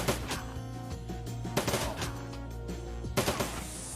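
A gunfire exchange with turrets in the video game Shadowrun Dragonfall: rapid automatic bursts crackle steadily throughout, with sharper loud volleys near the middle and the end.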